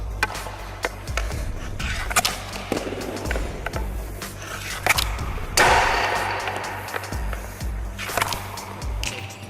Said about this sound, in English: you want to make sure that you hear this noise, a sweep or a scrape rather than a tap